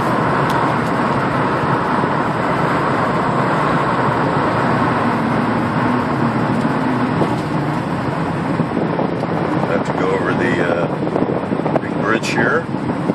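Steady road and engine rumble from inside a car cruising toward the Port of Los Angeles, with wind and tire noise holding a constant, fairly loud level throughout.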